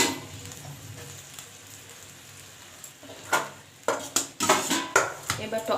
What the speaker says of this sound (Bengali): এই দেখুন বন্ধুরা, টকটা ভালো করে ফুটে গেছে।